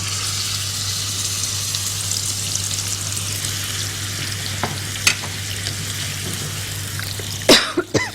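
Minced meat sizzles in hot oil, a continuous broadband crackle and hiss, with a few clinks and a cough-like burst near the end.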